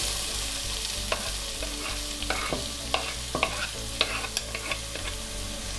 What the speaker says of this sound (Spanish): Ahora vamos a agregar la cebolla.